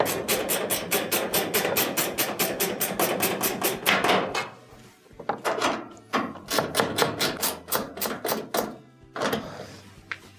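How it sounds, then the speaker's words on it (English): A ratchet drives screws into the top panel of a clothes dryer during a drum belt repair, giving rapid dense clicking in loud close bursts, a brief pause near the middle, then more clicking runs. "Let's switch over our ratchet,"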